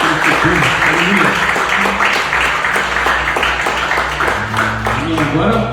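A church congregation applauds during a worship service, steady dense clapping filling the room while voices and music carry on over it.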